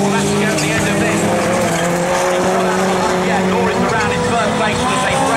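Rallycross race cars at Croft circuit: loud engines roar and rev continuously, with tyre squeal and skidding as cars run onto the loose surface, close and dense throughout.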